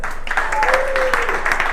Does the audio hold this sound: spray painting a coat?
no